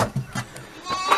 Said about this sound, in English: It's my milking goat.